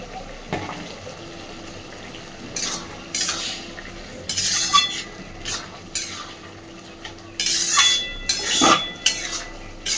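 A spoon scrapes and clinks against a pan while bottle gourd and prawns are stirred and cooked down to dry off their water. The bursts of stirring are irregular, with soft sizzling underneath and no voices.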